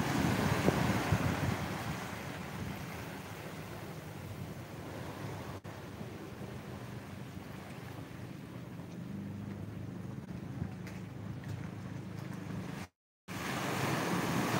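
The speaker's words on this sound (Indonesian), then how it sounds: "Ombaknya lumayan." Ocean waves rolling onto Pangandaran beach toward evening, a steady broadband wash of surf with wind buffeting the microphone, continuous and fairly close, with a brief dropout near the end.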